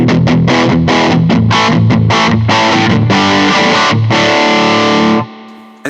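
Electric guitar through a Hughes & Kettner Black Spirit 200 amp head set for a rock and roll tone, loud distorted chords in a choppy rhythm ending on a sustained chord that cuts off, with no talk.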